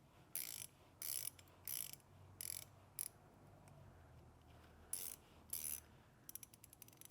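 A Silverline 72-tooth fine-tooth ratchet clicking, six short bursts of fast, fine ticking, then a scatter of single clicks, close and quiet against a faint background hum.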